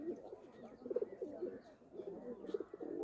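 Pigeons kept on a rooftop coo softly and intermittently. The low, muffled calls are faint and distant over steady background noise, with no clear talk.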